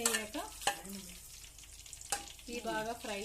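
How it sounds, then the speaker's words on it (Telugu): Cumin, mustard seeds and fenugreek shallow-frying in a pan give a faint, soft sizzle with a few sharp clicks, while someone talks over it. "జీలకర్ర, అలాగే ఆవాలు 1 స్పూను, మెంతులు 1 స్పూను, ఇవన్నీ కలిపి షాలో ఫ్రై చేసుకోవాలి."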